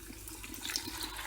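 Water is poured into a pan of creamy chicken during home cooking, a brief, faint splashing trickle.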